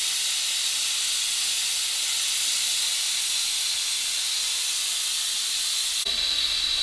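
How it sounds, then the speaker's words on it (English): All American stovetop autoclave sterilizer venting built-up steam pressure, a loud, steady broadband hiss that runs unbroken throughout, shifting slightly in tone near the end. "it's been venting for about 4 minutes now"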